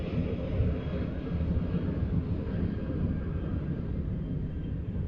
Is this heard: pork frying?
no